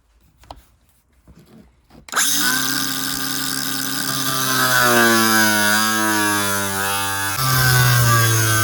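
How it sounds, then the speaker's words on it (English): A power drill bores holes in metal parts for a scale RC gooseneck trailer, a loud steady motor whine that starts abruptly after a few quiet seconds of handling noise, with pitch shifting under load, no voices. "we have successfully drilled all of the freaking holes in all of this metal"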